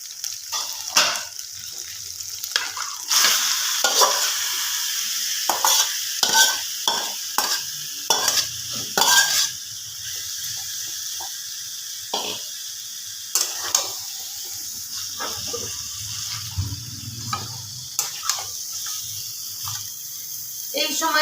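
Marinated chicken sizzles and fries in a hot pan while a spoon stirs and scrapes through it in repeated bursts, with water running briefly near a sink in the background.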